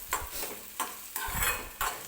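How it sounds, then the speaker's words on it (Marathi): Curry leaves drop into hot oil for a dahi tadka, giving a soft hiss and crackle broken by a few quick stirring scrapes, close and fairly quiet. "आता मी टाकते कढीपत्त्याची पानं."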